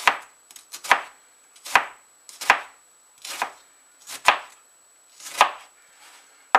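A knife chops an onion in about eight crisp, evenly spaced strikes, close and clear with quiet gaps between them.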